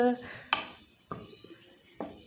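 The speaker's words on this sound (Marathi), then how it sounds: "आता हे सर्व मिक्स करून घेऊ" A spoon stirs a vegetable dish with moong dal in a pan, giving a few sharp clinks and scrapes spaced about half a second to a second apart, close and fairly quiet, with a brief voice at the very start.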